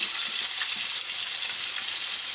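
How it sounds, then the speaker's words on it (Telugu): Small netthallu fish fry in hot oil with a little turmeric for an onion-tomato curry, giving a dense, even, loud hiss that runs unbroken with no stirring or voices. "ఆయిల్ హీట్ ఎక్కింది కొద్ది పసుపు వేసుకున్నాం కదా మనం నెత్తళ్ళు అయితే ఫస్ట్ వేపేసుకుందాం"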